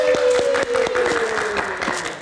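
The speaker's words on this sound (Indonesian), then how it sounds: "Kita berikan tepuk tangan untuk Mas Tatas" Studio audience applauding a guest on an Indonesian TV entertainment show, a dense steady clatter of clapping with a sustained musical tone running underneath throughout.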